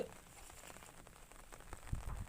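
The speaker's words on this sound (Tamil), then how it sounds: "மழை பேஞ்சிக்கிட்டே தான் இருக்குது" Steady rain falling on a paddy field, a faint, even hiss with scattered soft drop patters and a slightly stronger patch toward the end; no voices.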